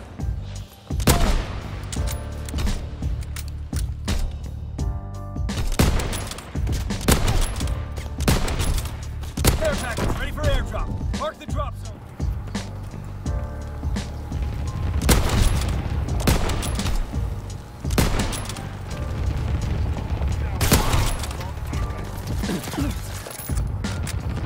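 Strafing fighter planes in a WW2 video game unleash loud, dense bursts of machine-gun fire and fusillades, punctuated by booms, sustained across the whole stretch with no talking.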